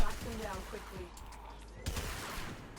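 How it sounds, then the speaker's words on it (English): Rapid automatic fire from the Fulmin weapon in machine gun mode in Warframe, quiet bursts of gunfire crackling over a low rumble, with a sharper burst near the end. "if we aim down, we adjust this, so now it becomes a machine gun"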